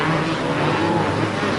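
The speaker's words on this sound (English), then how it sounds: "the rider from Holland, Evertson, is almost in the slipstream when they break to come into the corners" Motocross motorcycles at the 1992 Motocross des Nations braking into corners, heard as a loud, dense, continuous engine roar that holds steady throughout the short stretch without clear individual passes.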